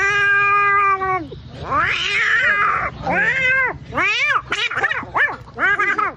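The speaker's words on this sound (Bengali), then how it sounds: "যেদিন ঘরের মধ্যে বালা রান্না হইব সেদিন দেখতে পারবে এই বিলাইটা এই সিস্টেমে ডাক দিব" A cat calls in a run of drawn-out, rising and falling meows, loud and close. The first cry is long and steady, then several shorter wails follow back to back.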